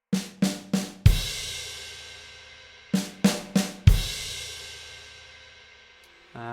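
Acoustic drum kit plays a sixteenth-note pattern: quick runs of tom or snare hits lead into a loud crash struck with the left hand that rings out long, and the figure repeats once, close up with no voices.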